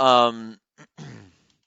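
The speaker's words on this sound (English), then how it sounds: "I cannot stop yawning" A drawn-out human yawn with a strong voiced opening that trails off, then a short breathy catch and a second fading exhalation, close and fairly loud.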